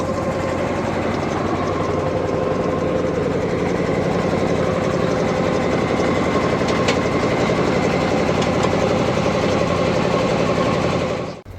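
A trawler's diesel engine idles with a loud, close, continuous throbbing drone that stays even throughout before dropping away at the very end.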